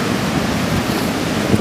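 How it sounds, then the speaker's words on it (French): Ocean surf rolling in at Anglet on a falling tide, a steady broadband wash of small waves breaking close by, continuous and fairly loud with no voices. "on commence à avoir quelques vagues"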